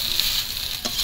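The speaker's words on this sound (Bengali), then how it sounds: "আমি ঢাকা দিয়ে দিয়ে ভাজছি।" Snake gourd frying in oil in a covered pan, a steady close hiss of sizzling with a brief clatter partway through, continuous and moderately loud.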